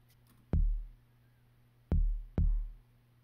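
Three deep, booming kick drum hits with a punchy attack and short decaying tail, irregularly spaced over quiet background hum. No voices.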